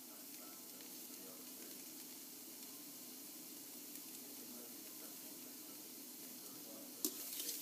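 Onions and parsley frying in a pan, kept moving to stop them catching: a steady, quiet sizzle throughout with a faint clink near the end, no speech.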